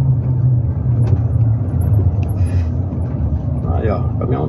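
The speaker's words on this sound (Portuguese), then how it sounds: "Aí, ó, caminhão de cana, ó." A loaded sugarcane truck rolls past on the PE-045 highway in Pernambuco, Brazil, its loud, steady low engine rumble dominating throughout, with a brief higher squeal near the end and a voice partly under the noise.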